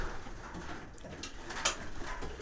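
Young racing pigeons coo softly inside a loft, low murmuring calls repeating under a quiet background, with a brief rustle or flutter near the end.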